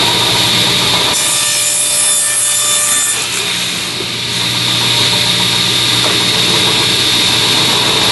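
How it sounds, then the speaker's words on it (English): A power saw cuts through a quarter-inch plywood panel, a loud continuous grinding rasp over a steady motor drone that runs the whole time with a brief dip midway. "we're going to cut our piece of quarter-inch plywood to fit on top of here"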